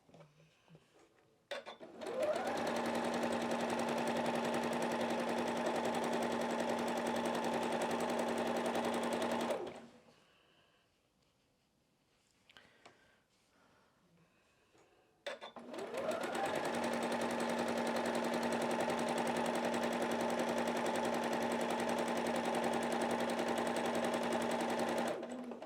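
A sewing machine stitches big quilt pieces for a quilted snowman project in two long, steady, loud bursts of whirring, separated by a quieter pause with faint handling noise.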